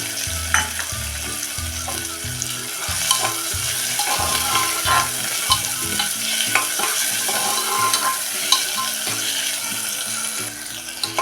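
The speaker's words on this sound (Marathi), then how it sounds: "वाटाने बघा एक मिनिटभर आपण परतून घेतले" Green peas and tomato are sautéed in hot oil for a pea pulao, with a loud, constant sizzle close by and repeated scraping and clattering as a spoon stirs the pan.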